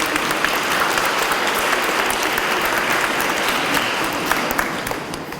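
Steady applause from a group of children at an Easter Monday gathering with a bishop, dense clapping that holds throughout and eases slightly toward the end.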